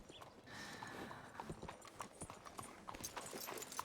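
Horse hooves clip-clop steadily at a walking pace in the video game Red Dead Redemption 2, close and fairly loud over faint ambient background, with no talking.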